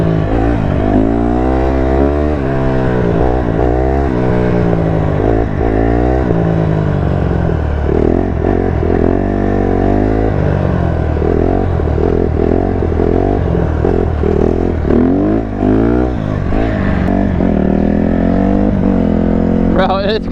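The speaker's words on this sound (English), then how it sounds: "it's crazy how much different the bike sounds just with like an exhaust on it" A Honda CRF150RB dirt bike with a loud straight-pipe exhaust revs and accelerates repeatedly on a road, close and raw, with the engine pitch rising and falling throughout.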